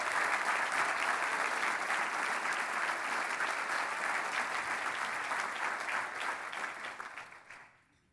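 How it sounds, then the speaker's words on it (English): A large audience at a keynote luncheon gives sustained, loud applause for retiring Mary Ann, a thick, even roar of clapping that thins out and fades near the end. "Please give her a huge round of applause for her work."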